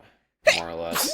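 A sharp, close sneeze bursts out after a moment of silence, loud and sudden, followed by a brief voiced tail as someone speaks right after it.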